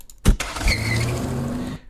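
Car sound effect: a car door thumps shut, then the engine cranks to life and revs hard as the car peels out, all within about two seconds.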